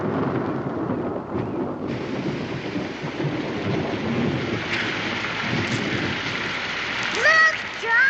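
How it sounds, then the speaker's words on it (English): Steady rain with rolling thunder rumbling throughout, a continuous wash of downpour noise with low rumbles underneath, and faint voices and a brief whistle-like tone toward the end. "Look, Josh, it's raining."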